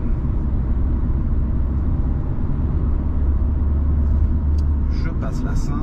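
Manual-transmission car engine while driving through town and shifting up through the gears, a steady low rumble close by with constant road noise and a brief higher whir near the end.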